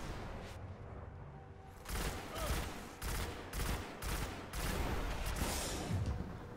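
Solar sniper rifle fire in Destiny on the Moon, several heavy booming shots in irregular bursts over a quiet ambient background, moderately loud with short tails.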